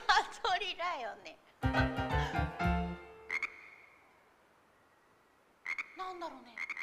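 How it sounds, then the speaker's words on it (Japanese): Croaking and chirping calls come in bursts, busy and loud at first, then a long quieter gap before a few more calls at the end, played as an animal sound in a children's rhythm class. "もしかして川とかにいるカエル？"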